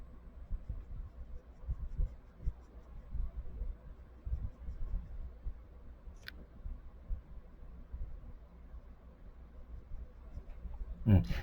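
A pencil lightly shades the teeth of a realistic portrait drawing with soft, faint, continuous scratchy strokes close to the microphone, followed by a brief sharper rustle at the end.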